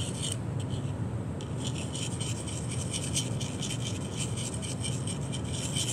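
Steady back-and-forth rubbing on a Hot Wheels die-cast car to remove a line makes a close, continuous raspy scrubbing with a rhythmic gritty texture.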